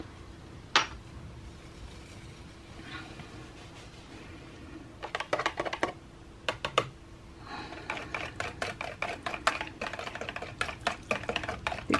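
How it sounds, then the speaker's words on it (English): A whisk stirs fragrance into soap batter in a bowl, giving irregular clicking and tapping strokes that are sparse at first and then come in quick, dense runs toward the end. "I'm just stirring in the fragrance with a whisk"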